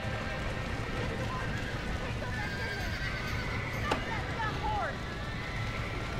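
A horse neighs in the Red Dead Redemption video game near a burning barn, a whinny rising over hoofbeats and ambient game sound while a player talks throughout.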